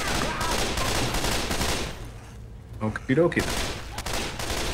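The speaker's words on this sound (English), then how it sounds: "Stop shooting me!" Rapid bursts of gunfire in the zombie shooter game Left 4 Dead 2, dense and continuous, then a short lull where a player speaks before the shooting picks up again.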